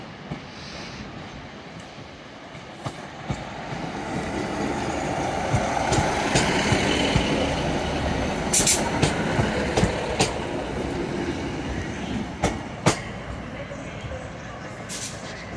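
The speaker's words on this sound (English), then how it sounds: "arriving in now is a Northern Class 156." A Northern Class 156 diesel unit pulls into Manchester Piccadilly station, a steady rolling rumble with wheel clicks and brake squeals building across the platform, with a few sharp clanks along the way.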